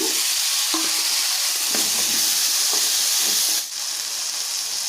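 Tomatoes sizzle in a hot pan with onions, garlic and ginger for a sprouted horse gram curry, a loud, steady frying hiss with occasional stirring scrapes and a brief dip near the end.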